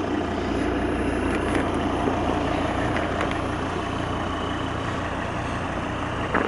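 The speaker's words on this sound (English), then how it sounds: "As you can hear, the car is ticking over very smoothly," A Volvo XC90 D5 SE Lux diesel engine ticks over at idle, a low, even rumble held steady and close throughout with faint light clatter on top and no voices.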